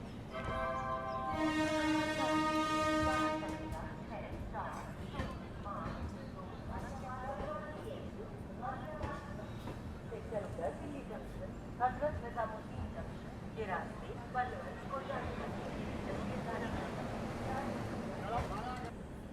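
Jalandhar Intercity Express hauled by a WAP-7 electric locomotive approaches along the line, opening with a sustained horn blast followed by a steady rolling rumble, while a voice talks over it.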